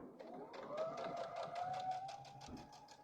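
Domestic sewing machine running a short back stitch, a steady whirring hum with a rapid needle-tap rhythm lasting about three seconds, close and moderately loud, no voices.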